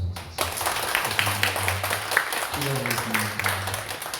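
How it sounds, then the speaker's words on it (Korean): A church congregation claps in thanks during Sunday afternoon worship, a dense patter of hands running throughout while a voice speaks over it. "우리 감사하다고 박수 한번"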